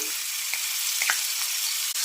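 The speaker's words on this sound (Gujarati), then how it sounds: "રાઈ જીરું થોડા કકડી જાય એટલે આપણે અહીંયા લસણ મરચાંની જે પેસ્ટ બનાવેલી છે એને ઉમેરી દઈએ" Garlic and chili paste sizzling in hot oil with mustard seeds and cumin, a loud continuous close-up hiss with small pops and a few stirring scrapes, no talk.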